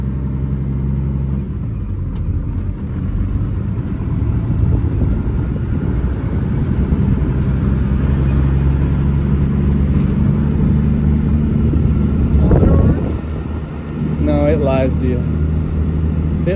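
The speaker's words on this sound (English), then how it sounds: "You can let out the clutch without even pushing on the throttle." A Cummins-powered truck creeps along in low gear, its steady, loud engine rumble running throughout with a brief surge near the end, while people talk inside the cab.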